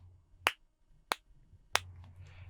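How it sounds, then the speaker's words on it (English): Three sharp, isolated hand claps about half a second apart, moderately loud over a low steady hum, made as background noise to trigger a recording during open loop testing; no voices. "I triggered the recording with my clapping"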